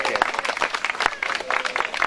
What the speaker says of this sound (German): Und bitte nochmal einen großen Applaus für die Tamara.